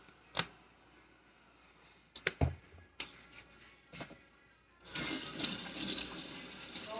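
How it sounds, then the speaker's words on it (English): Hands washed with soap at a kitchen sink: a few soft clicks and rubbing noises, then the tap opens and water runs steadily and fairly loudly to the end. "we're going to wash with soap and water"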